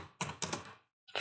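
Bursts of quick computer keyboard keystrokes while typing text, close and crisp, in two clusters separated by a short pause.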